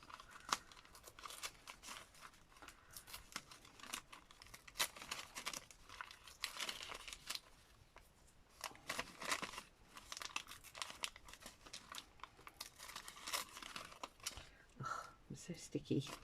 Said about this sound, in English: Let's see if I can tear it around it a bit.